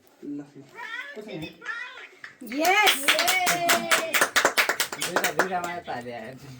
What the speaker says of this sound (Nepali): कत्रो ठुलो छ ताली